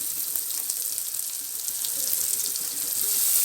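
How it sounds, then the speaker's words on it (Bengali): Water pours into spices frying in a pan for chicken bhuna, giving a continuous rushing splash over a faint sizzle that grows slightly louder toward the end. "তারপরে মশলাগুলোকে কষানোর জন্য আমি এতে পানি দিব।"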